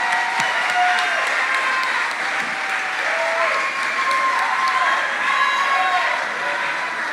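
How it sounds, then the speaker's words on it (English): Applause from the audience of a Tulsa mayoral candidates debate rolls on steadily, moderately close, with a few scattered cheers and voices speaking over the clapping. "Let's give the candidates a round of applause."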